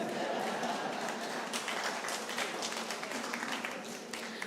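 An audience claps at a school groundbreaking ceremony, a thin, fairly distant patter that builds after a second and carries on quietly.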